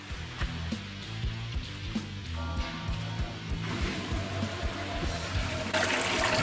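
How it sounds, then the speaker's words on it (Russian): Water rushes from a newly installed pump, a steady close splashing flow over a low mechanical hum that grows brighter and hissier toward the end. "Пошла вода."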